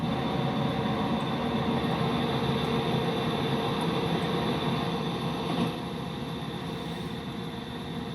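A locomotive runs steadily in the Train Simulator game, a continuous broadband rumble and rail drone heard from the cab that holds an even level throughout with no voices.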